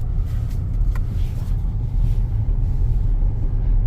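An all-wheel drive car in off-road mode pushes through heavy snow in a Sierra blizzard, its engine a steady, close, loud low rumble with constant road and wind noise and no pauses or talk.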